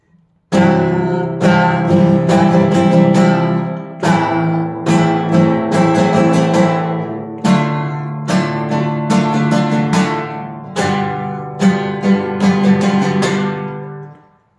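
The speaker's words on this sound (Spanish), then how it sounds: "En cada compás voy a hacer un acorde diferente y esto suena más o menos así." Chords strummed or played on a single instrument, changing each bar in a syncopated takadimi rhythm, steady and loud, running for about fourteen seconds without talk.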